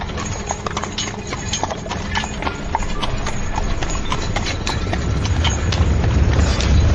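Horses' hooves clip-clop steadily and briskly over a rumbling, continuous background, with no talking.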